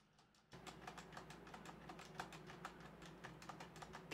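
Rapid close keystrokes on a Corsair K70 mechanical keyboard fitted with Cherry MX Red switches begin after a short quiet lead-in, then continue as a steady, brisk stream of clacks over a low hum.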